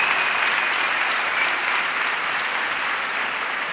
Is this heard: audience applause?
yes